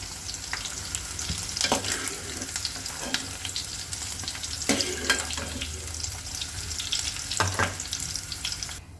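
Chopped onions fry in hot oil in a pan while cooking Andhra-style stuffed brinjal curry. The sizzle is steady and crackling, with occasional scraping stirs and watery splashes, and no talking.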